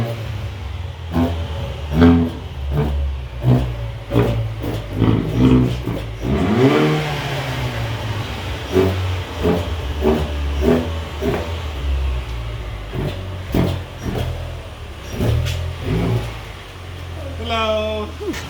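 A Haval H6 GT engine revs up once in a rising surge amid steady road noise, with repeated clicks and a person talking over much of it.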